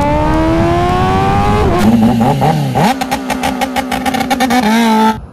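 A Kawasaki ZX-10R sportbike fitted with an Austin Racing exhaust revs loudly at close range on launch control, holding a steady high idle before dropping into rapid popping, stuttering limiter bursts and a final held rev.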